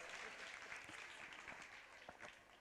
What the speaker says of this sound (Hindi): तालियां बजाकर अनुमोदना